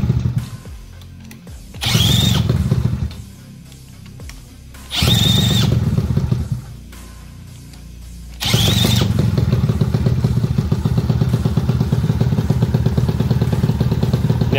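A Yamaha PW50 dirt bike is kicked over without choke: two short sputtering bursts die out, then a third catches and the small two-stroke engine settles into a steady, close buzzing idle.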